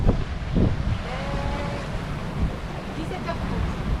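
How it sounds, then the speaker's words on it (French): Wind gusts roar across the microphone amid rushing water on a sea crossing from Puerto Rico toward Nassau, Bahamas, a continuous blustery noise with a voice speaking briefly underneath. "Ouais, ça y est, le vent est revenu."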